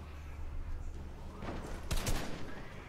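A short burst of gunfire in a video game trios match, a couple of sharp cracks near the end over low background game noise.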